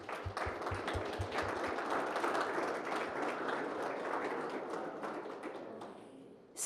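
Sustained audience applause fills a graduation artist talk at an art gallery, a dense, steady wash of many hands clapping that holds for several seconds before tapering slightly near the end.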